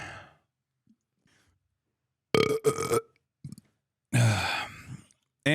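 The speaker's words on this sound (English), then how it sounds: "the fact that I burp into the microphone" A single deep burp made close into a microphone, loud and guttural with a short sigh-like tail, surrounded by near silence and a few brief clicks.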